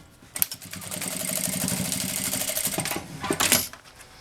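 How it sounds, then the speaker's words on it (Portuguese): A sewing machine with a presser foot stitches a zipper to the bottom panel of a fabric toiletry case, a steady close mechanical chatter that runs for several seconds and then stops with a few clicks. "e passo uma costura com um pé de máquina."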